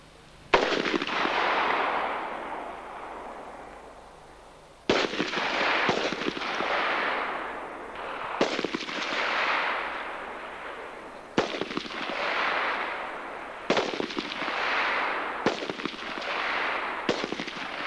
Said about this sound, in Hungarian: Előttünk álló mellalakra egyes lövéssel tűz.